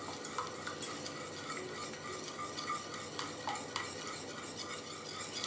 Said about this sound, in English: And now whisk until the mixture is smooth.